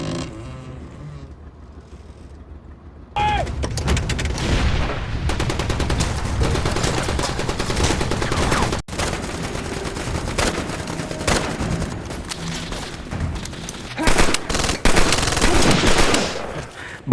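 A war film battle scene fills with loud, dense gunfire: sustained machine-gun bursts and overlapping shots with heavy rumbling, close and continuous for most of the stretch after a quieter start.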